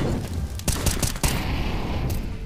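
FAMAS rifle spray in CS:GO, several sharp close bursts of rapid automatic shots cracking loudly in quick succession, followed by a brief quieter trailing shot.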